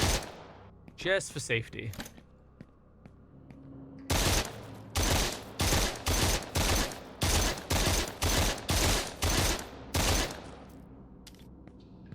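Rifle gunfire in a video game: about nine loud, evenly spaced shots ring out in a steady rhythm after a brief spoken line and some scattered earlier noises.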